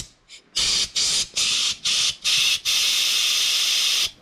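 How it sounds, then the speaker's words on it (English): Carb cleaner sprays into the fuel hose of a 1979 Toyota pickup with a near, loud hiss, first a faint puff, then five short bursts and one long sustained spray. "Just put a little bit of carb cleaner in there"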